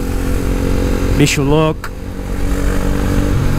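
A Yamaha Tracer motorcycle in city traffic gives a steady engine rumble throughout, close and fairly loud. A voice speaks briefly over it partway through.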